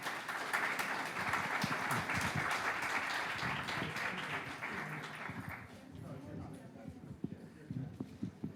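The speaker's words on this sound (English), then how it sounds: "let's give our panelists a big round of applause" Audience applause for the panelists of a diaspora panel discussion on trafficking, steady dense clapping for about six seconds that then thins out into scattered claps and room noise.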